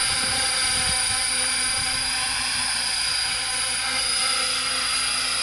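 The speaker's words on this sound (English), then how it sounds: "get a feel for banking the heli a little bit over" A helicopter in fast forward flight banking in a clockwise circuit gives a steady, continuous whine and drone with a sustained high tone, loud and unbroken throughout with no talking.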